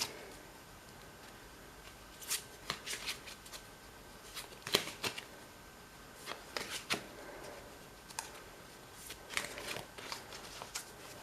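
Tarot cards are shuffled and cut by hand in a quiet room, producing soft, irregular riffling bursts and papery flicks spread across about eleven seconds, close and faint with no talking.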